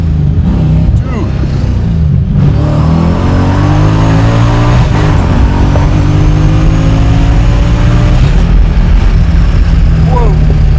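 A 700-horsepower supercharged LS V8 in a widebody 1974 Toyota Celica accelerates hard from inside the cabin, its loud, rising engine note climbing through gears and filling the whole clip, with voices over it.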